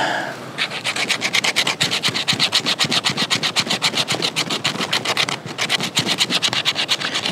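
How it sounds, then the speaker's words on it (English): The spine of a small fixed-blade knife rasps repeatedly over fatwood in fast, even strokes, a loud, close, rhythmic scraping that keeps going with a short break near the end and no talking. "See how well the fat wood will scrape."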